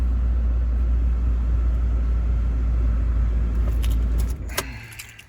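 A V8 car engine idles steadily with a deep, loud low rumble close by, then drops off near the end as lighter clicks and jangling take over.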